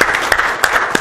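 A tech talk audience in Toronto gives a brief round of applause, a short burst of scattered clapping with distinct sharp hand claps standing out close by.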